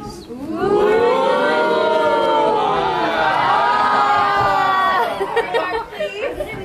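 A crowd of visitors at the Mystery Spot, a tourist attraction, cheers and shouts loudly together in a sustained swelling roar of voices, with higher wails rising and falling before it breaks into scattered chatter.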